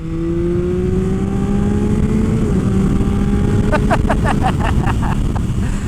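A motorcycle engine revs up quickly with a rising, steady drone, then fires a rapid series of sharp, evenly spaced bursts near the end, loud and close throughout.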